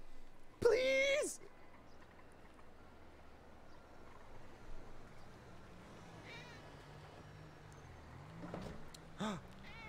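A cat meows loudly once near the start inside the GTA game world, then fainter mews follow over a low ambient hum while players talk.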